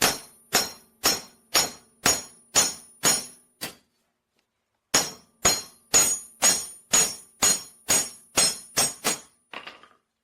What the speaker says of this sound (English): We rivet the second rivet in the same way